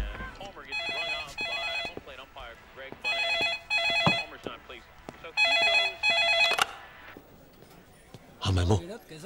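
A telephone rings in several repeated bursts, fairly close, while people talk between and around the rings.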